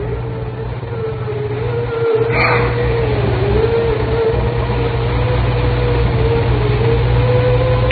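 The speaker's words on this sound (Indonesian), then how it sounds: "yang ku dengar hanyalah suara dengungan dari mesin AC yang rusak itu" A broken air conditioner drones with a steady electrical hum and a low rumbling undertone, continuous and fairly loud, with a brief thump partway through.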